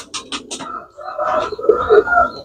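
Gresik pigeons cooing close by, a few short soft cooing calls with some light bird calls and faint rustle, no talk over them.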